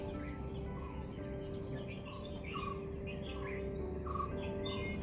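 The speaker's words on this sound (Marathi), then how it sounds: "साधारण 5-5:30 वाजल्यापासून पक्ष्यांचा आवाज सुरू झालाय." Early-morning birdsong on a forested mountaintop, several birds chirping and whistling in short repeated phrases at moderate distance over a faint steady insect and ambient hum.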